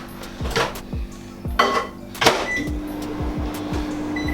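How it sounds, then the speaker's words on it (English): Kitchen clatter of food being put into a microwave: a few close, sharp knocks and thuds of dishes and the oven door over a steady low microwave hum, with no talking. "I'm gonna whack that in the microwave."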